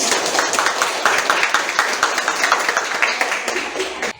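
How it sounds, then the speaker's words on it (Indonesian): Students in a classroom clap together in a brisk, loud round of applause that rises quickly, holds steady for a few seconds, and then cuts off abruptly. "Sekali lagi tepuk tangan untuk kalian."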